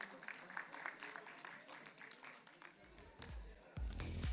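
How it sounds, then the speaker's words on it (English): Audience applause at a jewellery fair roadshow, a quiet spread of claps from a seated crowd at a distance, fading as low rumbling and a voice through a microphone come in toward the end. "Can we have a round of applause once again?"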